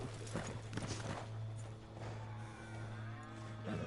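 Horse hooves clip-clop in the Red Dead Redemption 2 video game, a run of soft rhythmic steps under a steady low hum, fairly close and moderately loud.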